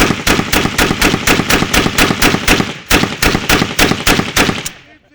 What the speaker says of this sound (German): Wir tauschen einen Schuss aus.